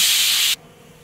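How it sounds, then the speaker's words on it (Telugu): A mixer grinder (mixie) roars with a loud, dense whirring hiss for about half a second, then stops abruptly, leaving quiet room tone. "ఓకే, నేను మిక్సీ పట్టాను."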